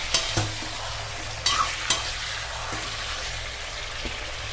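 Ingredients with spice powder being sautéed and stirred in a pan for a chicken dish, steady close sizzle broken by several sharp scrapes and clinks of the spoon against the pan.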